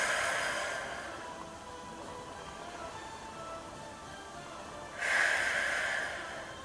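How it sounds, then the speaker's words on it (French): Deep breaths drawn during a gentle gym exercise session, a long airy inhale and exhale with a second strong, close breath near the end, no talking. "Prenez une respiration bien profonde."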